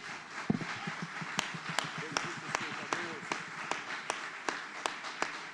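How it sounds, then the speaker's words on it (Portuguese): A church congregation claps in a steady, even rhythm, crisp hand claps repeating under voices and murmuring. "Então aplauda Jesus, que é o nosso Salvador."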